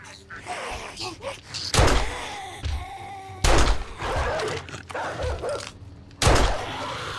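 In the video game 7 Days to Die, a dog lets out loud, heavy barks or impact-like bursts at three separate moments, with quieter game sounds and some talk in between.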